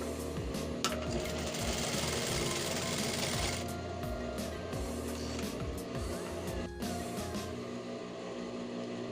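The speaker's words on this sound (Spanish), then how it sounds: "Aflojamos, volvemos a coser." An industrial flat-bed sewing machine stitching, a steady loud mechanical whir with rapid needle chatter, running continuously and briefly changing pitch partway through.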